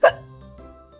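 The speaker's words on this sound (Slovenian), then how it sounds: "začela kolcati" A cartoon girl lets out a single sharp hiccup, loud and close, trailing into a faint low hum.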